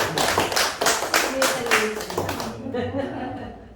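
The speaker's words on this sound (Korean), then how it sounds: "박수 한번 주세요" An audience at a Korean coaching lecture applauds, a dense burst of many clapping hands that tapers off after a few seconds as speech resumes.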